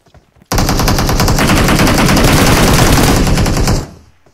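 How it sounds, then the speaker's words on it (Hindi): Sustained automatic gunfire in the mobile battle-royale game PUBG Mobile, a loud, dense stream of rapid shots lasting about three seconds, starting abruptly and cutting off with a brief fading tail. "कोई और फायर किया क्या?"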